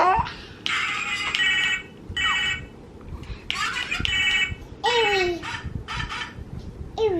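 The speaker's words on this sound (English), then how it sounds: "Why does your phone need to bark?" A phone ringtone made of dog barks goes off in repeated, loud, close bursts with short pauses between them, while voices, including a child's, are heard around it.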